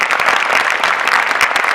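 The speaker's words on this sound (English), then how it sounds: "please join me in giving one last round of applause to tonight's winners" Audience at an awards ceremony applauding the evening's winners, a dense, loud burst of steady clapping from a large crowd, heard alone without talk.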